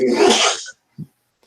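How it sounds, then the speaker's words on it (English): A single loud sneeze bursts out close by during a tabletop role-playing game session, followed by a short faint breath and then quiet. "Gesundheit, whoever that was."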